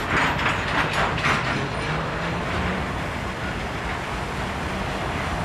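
A CSX freight train switching cars in Cumberland, Maryland, heard as a steady broadband rumble of rolling stock and machinery at moderate distance, continuous and without talk.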